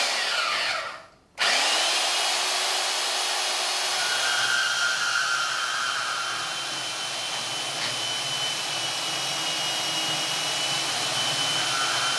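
A cheap Bauer portable band saw (portaband) cuts metal. After a short gap, a loud, steady motor whine and blade hum start abruptly and run continuously, with a slight change in tone partway through.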